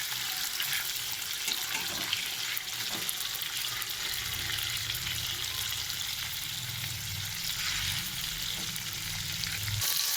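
Salted, washed fish pieces frying in hot oil in a pan after being flipped, a continuous loud hissing sizzle that stays steady throughout with a few light utensil taps, no talking.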